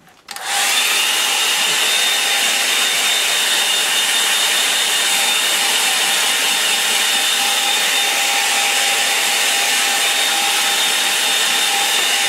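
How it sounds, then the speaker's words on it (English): A hair dryer blows on a watercolour painting, switching on after a brief moment and then running as a loud, continuous, even whoosh with a faint steady whine, no speech. "So I'm going to dry that off now."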